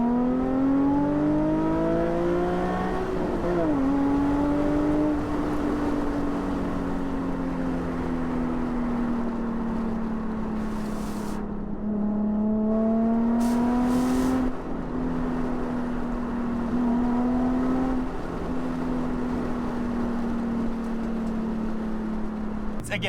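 A Nissan 350Z HR pulls hard through the gears, its engine note climbing steadily in long sweeps with brief dips at the shifts, loud and close from inside the cabin with no talking.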